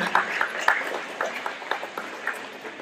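A small audience at a community meal in a village hall claps in scattered, uneven bursts, individual sharp claps standing out rather than a full roar, moderately close and thinning over the few seconds.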